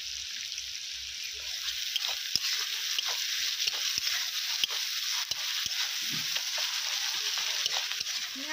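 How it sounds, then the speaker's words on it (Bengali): Chopped onions fry with a pinch of salt in a pan, a continuous close sizzle broken by repeated sharp spatula scrapes and taps at an uneven pace. "পেঁয়াজ হালকা ভাজা হয়ে এসেছে"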